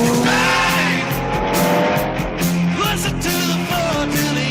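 Red Coyote kit car tearing through the Hardcastle and McCormick intro chase, engine roaring at high revs with repeated tire squeals and skids, loud and continuous over a music bed.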